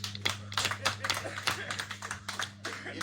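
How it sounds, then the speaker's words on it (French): Scattered hand claps from an audience at an Ekang community gathering, sharp uneven taps repeating across the moment over a steady electrical hum, with a voice talking over them. "Applaudissez pour lui."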